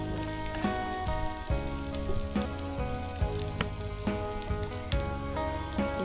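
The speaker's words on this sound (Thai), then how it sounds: "เดี๋ยวจะลองเอาน้ำมัน ใส่แล้วทอด" Wild spiders fry in hot oil with a dense, close sizzle, full of popping and crackling bursts that pulse steadily with no talking.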